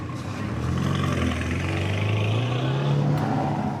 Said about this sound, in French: la piste devient un lieu de spectacle, avec son défilé de voitures de luxe